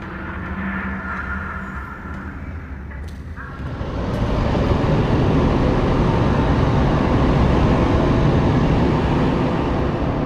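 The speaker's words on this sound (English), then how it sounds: "Is that haunted train noise, or does the train still pass this station" In the Ghost Town VR video game, a train passes through an underground station. A low rumble swells into a loud, sustained roaring clatter that holds steady to the end, with no speech.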